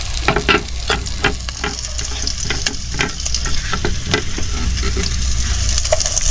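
Onion and garlic sauté in a pan alongside browning ginger, a loud continuous sizzle broken by repeated sharp scrapes and knocks of a stirring utensil, close up and without talk.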